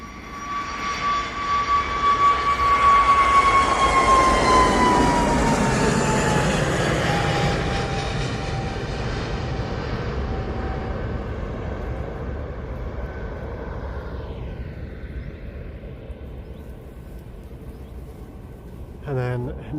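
A TUI jet airliner taxis out at Manchester Airport, its engines a steady loud whine and rumble that fades slowly as it rolls away, with someone talking over it.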